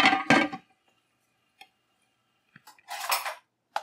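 Pumpkin and sugar are stirred in a cooking pot, with sharp spoon-on-pot scrapes and clanks in short bursts separated by quiet gaps and a few faint taps; no one speaks.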